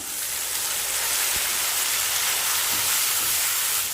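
Tomatoes sautéing with onion and garlic in a pan, a steady close hiss of sizzling that keeps on without a break, with one faint knock partway through.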